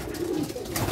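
Pigeons cooing in a loft among birds kept for a racing toss in Pagsanjan, Laguna, a low soft burbling coo close by over steady background noise.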